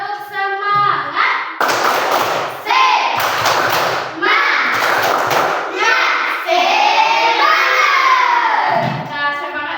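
Elementary schoolchildren in a classroom do a rhythmic spirit clap, loud patterned bursts of clapping and thumps alternating with children shouting and chanting together, close and energetic throughout.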